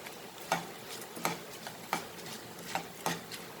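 Spoon stirring a pot of Goan beetroot pulao with lime juice, five or six soft rhythmic scraping strokes roughly every two-thirds of a second, quiet and close, with no voices.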